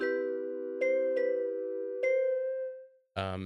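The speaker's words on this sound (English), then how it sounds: "It's more plucky, kind of a classic lo-fi bells sound." Plucky lo-fi synth bell notes from a Vital preset ring out in a slow, soft melody, each tone sustaining and fading, followed by a brighter chord at the end.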